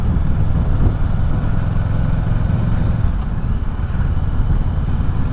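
2021 Kawasaki Ninja 650 KRT fitted with an Akrapovic exhaust, heard from the rider's position as a loud, smooth, continuous engine drone with steady low rumble and wind noise.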